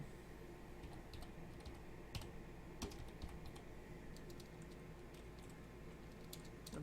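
Fingers typing on a computer keyboard while searching in a web browser: light, faint key clicks in short irregular bursts over a steady background hiss.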